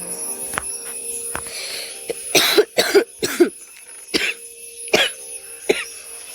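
Several sharp coughs, close and fairly loud, come in separate bursts with short pauses between them, heard alone over a steady background hum.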